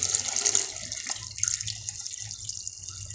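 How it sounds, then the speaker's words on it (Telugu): Water pours from a vessel into a pot of raw mangoes, a close, steady splashing stream that fades slightly toward the end, with no talking. "ఇప్పుడు మనం దీంట్లో వాటర్ యాడ్ చేసుకోవాలి"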